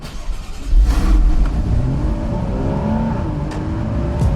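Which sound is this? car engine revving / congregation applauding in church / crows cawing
car engine revving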